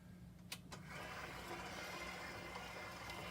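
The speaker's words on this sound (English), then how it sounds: "If you're using a dough hook, you want to turn the mixer to the lowest speed." A stand mixer with a dough hook starts up and works bread dough at its lowest speed, giving a faint, even motor whir that runs steadily after a couple of quiet knocks.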